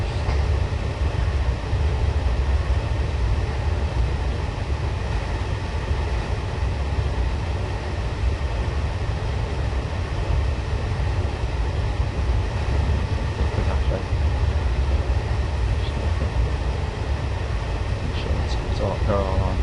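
A train rumbles steadily along the East Coast Main Line in the Train Simulator 2013 game, a continuous low rolling drone with faint mechanical squeals, while someone talks over it.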